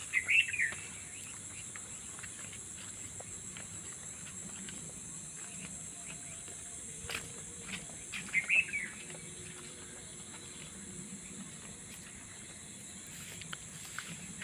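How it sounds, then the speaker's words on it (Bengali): Faint bird chirps come now and then in the pre-dawn stillness around half past three on an empty road, with a short burst at the start and another a few seconds later over a thin, steady insect hum. "পাখিদের ডাক শোনা যাচ্ছে।"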